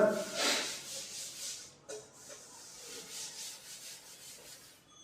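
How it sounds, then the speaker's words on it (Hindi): Soft rubbing strokes erase writing from a board, a few faint hissing swipes in quick succession, the strongest near the start, followed by lighter brushing. "इसको रब कर देता हूँ पूरा"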